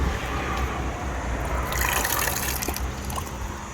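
A small roadside tap runs as water is collected, a steady splashing flow with a brighter gush building in the middle, close and alone.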